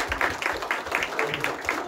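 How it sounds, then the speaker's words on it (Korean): Applause from an audience closing a behind-the-scenes talk about a film on President Syngman Rhee, honoring an actor; brief, steady clapping rising in soft bursts, fairly distant and uneven. "큰 박수 부탁드리겠습니다"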